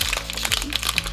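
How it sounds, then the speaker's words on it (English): Clear nano tape handled close up, a run of quick crinkly taps and crackles in steady succession with a low hum underneath and no talking. "first I'm gonna get my beautiful clear nano tape"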